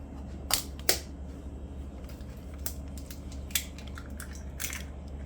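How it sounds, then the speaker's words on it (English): Eggs crack into a bowl for a blueberry cake, several sharp shell cracks and crunches spaced apart over a low, quiet background. "In a bowl, I will be cracking the eggs."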